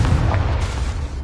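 The Confringo explosive spell is cast in Hogwarts Legacy, a short, loud, low boom that rumbles steadily for about a second before tapering off.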